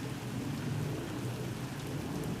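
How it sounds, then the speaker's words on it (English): Steady rain falls on a calm early-May evening, a soft continuous hiss and patter that stays even and close throughout, with no voices. "a very peaceful, rainy end to a good day"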